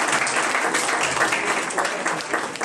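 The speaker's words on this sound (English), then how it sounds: "So let us all give them a warm round of applause and welcome to the stage." Applause from an audience welcoming club members onto the stage at a university international students' welcome event, a dense steady wash of clapping filling the whole stretch.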